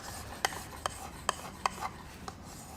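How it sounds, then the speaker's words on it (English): Knife blade drawn across the strop belt of a Work Sharp Ken Onion sharpening machine, giving a faint steady rasp with five or six sharp ticks at a fairly even pace. "hit that strop belt on that Ken Onion machine and see"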